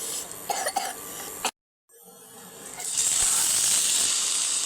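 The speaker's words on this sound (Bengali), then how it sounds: "তেলটা চারদিকে লাগিয়ে দিচ্ছি" Oil hisses steadily in a hot frying pan while cooking a cabbage dish, the sizzle swelling loud and bright after a brief cough-like burst and a moment of silence.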